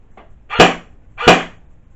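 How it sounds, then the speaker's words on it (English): G&G GR4 airsoft rifle firing with blowback: two sharp, close cracks about 0.7 seconds apart, each with a brief mechanical rattle, heard alone. "If I can just quickly show you the blowback on it, which I do like"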